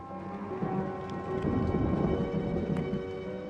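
Rain pours steadily on an old, already wet building at a historic bath site, with low rumbling thunder swelling beneath the continuous patter and a few sharper drips standing out.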